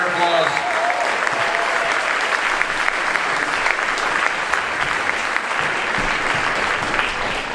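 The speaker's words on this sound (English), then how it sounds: "give him a round of applause." Audience applause at a mentalist's stage show, dense steady clapping from a crowd throughout, loud and sustained with no pause.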